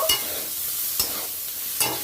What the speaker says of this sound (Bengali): ফুলকপিটা আমার ভাজা হয়ে গেছে